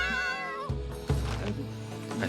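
Cartoonish cat meows from a Monster Hunter game, a long tonal mewing cry followed by a couple of shorter, choppier meow-like calls, fairly close and clear with no talking.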